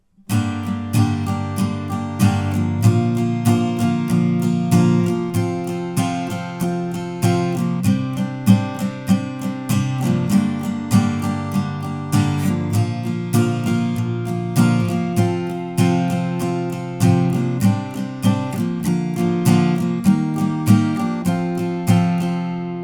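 Acoustic guitar strums the chords of the chorus and instrumental section of a song, a steady rhythmic pattern of full chords ringing continuously at close range with no voice.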